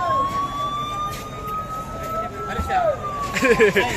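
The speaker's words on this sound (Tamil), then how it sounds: "நான் ஆம்புலன்ஸ் வந்துச்சு அதை பார்த்தேன்" Ambulance siren sweeping past on a busy street at the Thiruvannamalai Chitra Pournami Girivalam, its steady wail rising then falling away over crowd murmur and traffic, with people talking nearby.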